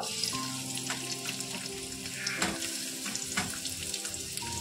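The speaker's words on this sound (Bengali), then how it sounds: "এর মধ্যে এবার আমি যে কেটে রাখা পেঁয়াজটা রেখেছিলাম সেটা দিয়ে দেব" Chopped onion dropped into hot oil in a wok for a mutton kabab, frying with a continuous sizzle broken by a few light clinks of a utensil.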